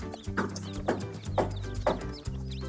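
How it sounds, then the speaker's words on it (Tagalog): Native chickens on a farm cluck in a series of short bursts over a low steady background hum, fairly close and moderately loud. "Yan po mga manok oh."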